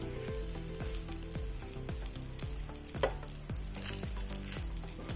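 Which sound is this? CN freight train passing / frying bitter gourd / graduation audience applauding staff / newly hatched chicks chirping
frying bitter gourd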